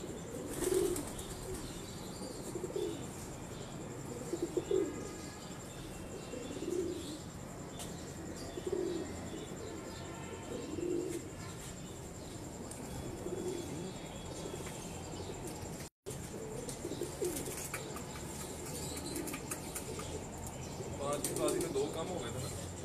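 Pigeons on a rooftop loft cooing in soft repeated low calls at a steady pace, with occasional wing flaps and faint chirps against a hissy outdoor background; no one speaks.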